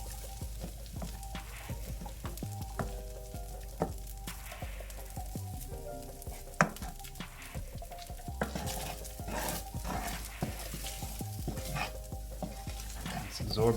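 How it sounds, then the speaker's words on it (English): Leftover cooked rice with sausage and vegetables fries in oil in a pan, giving a steady low sizzle with occasional stirring scrapes under faint background music. "the rice is already cooked, so we're just getting it brown with some flavor"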